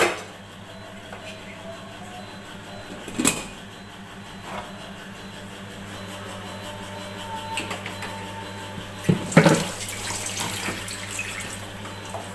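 Tap water running steadily into a pot in a small rented-house kitchen before spinach is boiled, with a constant rush broken by a few louder splashes and knocks.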